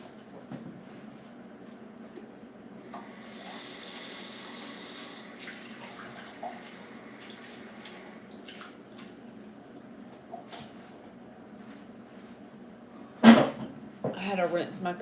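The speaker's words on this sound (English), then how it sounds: "I had to rinse my cup out." A cup is rinsed under a running tap, a steady rush of water lasting about two seconds amid faint room sounds, followed later by a sharp clatter and some handling noise.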